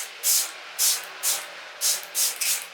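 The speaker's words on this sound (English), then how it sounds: "spraying the setting spray" Five short, fine spray bursts from a makeup setting spray pump bottle, each a soft hissing puff, evenly spaced and close up.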